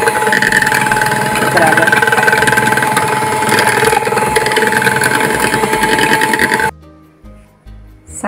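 Electric blender whirring as it blends yogurt (dahi) with salt, a loud steady motor drone that runs for several seconds and then stops, with a brief spoken word near the end.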